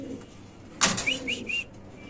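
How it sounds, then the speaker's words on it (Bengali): A female Mundian pigeon gives a short call, a sudden bright burst followed by a few quick whistly coo notes, close to the microphone against quiet background noise. "এই যে মাদির ডাক শুনেন"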